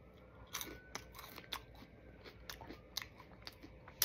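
Crunchy fries being bitten and chewed close up, with irregular sharp crunches and crackles at a quiet level.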